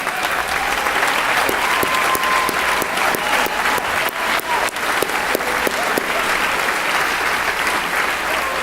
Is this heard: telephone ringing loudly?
no